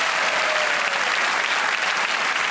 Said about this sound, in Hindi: एक बार फिर तालियां बज जाएं उनके लिए